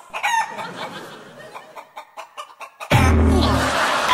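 Rapid, rhythmic clucking pulses from a chicken, then a sudden loud burst of noise swamps everything at the end.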